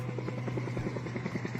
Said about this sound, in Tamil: சீலிங் ஃபேன் என்ன ட்ரோன் மாதிரி அப்பா சுத்திக்கிட்டு இருக்கு.